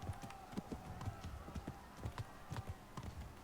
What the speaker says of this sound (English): You can call your horse anytime by whistling,